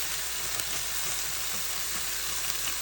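A quesadilla sizzling in a hot pan, a steady close frying hiss that runs unbroken throughout with no voices.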